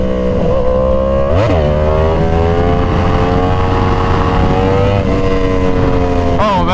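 A Yamaha R1 sport motorcycle engine revs hard and loud nearby, its pitch climbing and dropping with quick shifts and sharp throttle blips.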